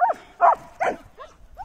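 Sled dogs bark at night during a dog sledding run, about five sharp barks in a quick, uneven rhythm, loud and close at first and then fainter.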